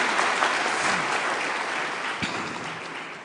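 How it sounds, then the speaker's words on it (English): Audience applause at a graduation ceremony, a dense steady wash of clapping from a large crowd that holds evenly and tapers slightly toward the end, with no talk over it. "but you can clap"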